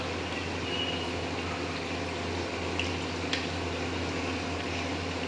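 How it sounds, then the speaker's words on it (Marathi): A pot of water boils on the stove for cooking rice, giving a low, steady bubbling rumble with a few faint clinks and no talking. "तर त्यासाठी आपण सुरुवातीला पाणी उकळून घेतलेलं आहे। आता आपण त्यामध्ये 2 पळी तेल टाकणार आहोत।"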